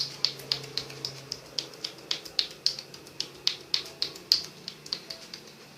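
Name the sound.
alternating fist tapping during a fitness massage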